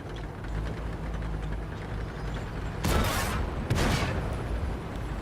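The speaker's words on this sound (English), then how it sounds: "We trade shells with each other." Tank cannon shells traded in World of Tanks, with a Pershing among the tanks: two loud, booming shots about a second apart stand out over a steady rumble of engine noise.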